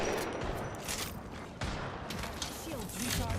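Gunfire in Apex Legends: bursts of rapid shots with sharp cracks, mixed with mechanical clicks amid busy game noise, while a voice speaks briefly.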